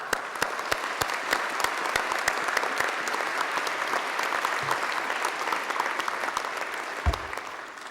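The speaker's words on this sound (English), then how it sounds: "huge round of applause" A packed hall applauds at a 2019 Scottish college graduation ceremony, with dense, steady clapping throughout and a few sharp, close claps standing out near the listener.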